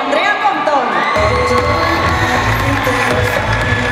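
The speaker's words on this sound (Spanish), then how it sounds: "Un fuerte aplauso para Rash Smith, Anton Lofer y Andrea Pontón." A gala audience breaks into applause and cheering, with claps and whoops building after about a second into a dense, sustained roar from a crowd close by.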